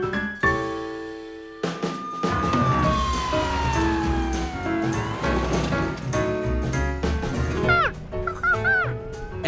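Ambulance siren in a cartoon, a loud wailing tone sweeping up and down for several seconds, with music and sound effects layered underneath.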